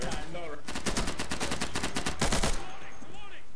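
Rapid bursts of automatic gunfire from the video game Insurgency, fired close and loud in quick repeated rounds for a couple of seconds, with players' voices heard before and after the shooting.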